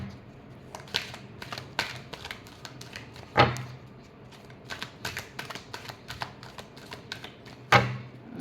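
Tarot cards being shuffled produce quiet, irregular flicks and riffles with scattered crisp taps and a couple of sharper snaps, close and soft, with no talking.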